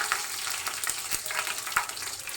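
Mustard seeds, cumin and curry leaves hit hot oil in a pan for a sev tameta curry, making a loud steady sizzle with sharp crackles and pops throughout, no voices.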